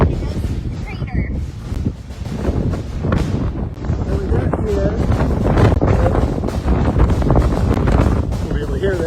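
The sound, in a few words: strong wind outdoors in Iceland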